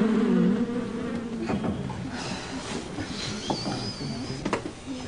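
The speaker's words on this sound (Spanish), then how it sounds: "ahora sí saca la mosca" A fly buzzes in a sitcom scene at a café, a thin, wavering drone rising and falling with brief louder passes amid faint room noise.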